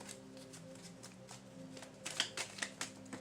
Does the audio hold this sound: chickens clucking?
no